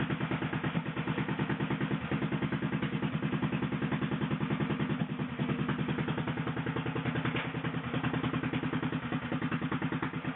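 A replica 1888 Benz Patent Motorwagen engine runs steadily after ignition, its close, even chugging pulse unbroken throughout with no voices.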